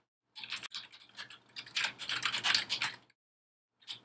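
Rapid, close clicking of a computer keyboard as a username is typed into a file-transfer command, a steady run of keystrokes for about three seconds, then a brief pause and one last tap.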